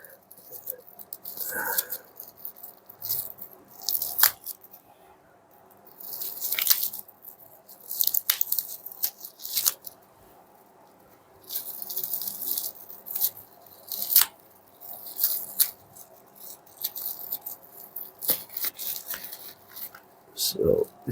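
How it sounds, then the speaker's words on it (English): Perfume bottle packaging for Guerlain Shalimar eau de toilette is handled and pulled apart, giving soft crinkles, rustles and squishy taps at close range, scattered irregularly throughout with quiet gaps. "So let's take out the packaging."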